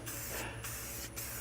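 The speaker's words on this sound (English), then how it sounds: "I prefer black spray paint." Black spray paint sprayed onto car tires in an outdoor car wash, with two or three loud, close hissing bursts separated by brief pauses.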